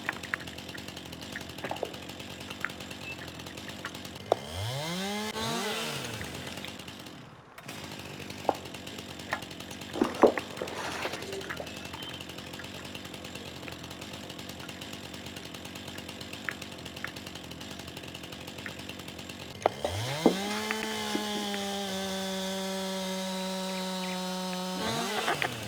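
A chainsaw in Farming Simulator 19 revs up and winds down in loud bursts, with a long droning run near the end, over a steady mechanical background hum and scattered small knocks, with no voices.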